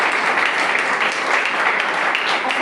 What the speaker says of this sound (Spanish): Aplauda al Eterno